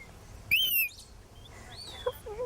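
A pet bird gives a sharp, high chirp up close, followed by a few fainter, scattered tweets and soft background noise.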